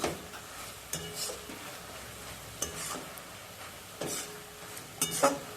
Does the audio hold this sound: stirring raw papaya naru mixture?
yes